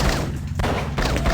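Rapid bursts of gunfire from the 1997 Blade Runner adventure video game, loud and clustered shots in quick succession with brief gaps between them.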